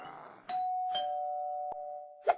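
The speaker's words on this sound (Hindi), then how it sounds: "मैग्नेटिक बेल यानी मकनातीसी घंटी।" An electric bell rings with a sustained, steady metallic tone for over a second, followed by a couple of short sharp dings; clear and close.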